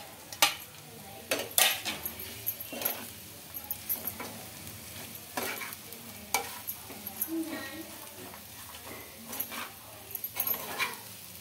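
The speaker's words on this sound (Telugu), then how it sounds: "ఎల్లిపాయ కారం కొద్దిగా పచ్చి వాసన పోయే వరకు అయితే ఫ్రై చేసుకోవాలి" Bitter gourd fried in a pan with crushed garlic and chili, a steady sizzle under repeated scraping stirs from a spatula, with occasional sharper clinks of metal against the pan.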